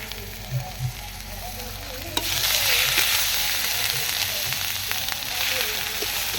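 Bay leaf, cloves, cardamom, ginger, garlic and onion paste frying in hot oil, a couple of quiet taps before a sudden loud sizzle that holds steady and close, with light stirring and no voices.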